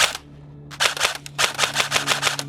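An E&C retro airsoft gun fires BBs in quick sharp pops: a lone shot, a short pause, then two fast bursts of several rounds each, close and loud over a low steady hum.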